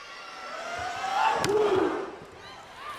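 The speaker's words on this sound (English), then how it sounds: "Crowd getting into it, especially for the service of Cassie Strickland." Crowd noise swells at a Huskies volleyball match as Cassie Strickland steps up to serve, a broad roar building and peaking mid-clip before easing off, with shouts and a commentator's voice over it.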